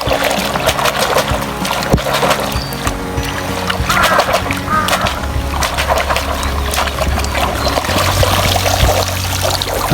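Peanuts washed by hand in a container of water give continuous close sloshing, splashing and the clatter of shells rubbing together, while voices talk over it.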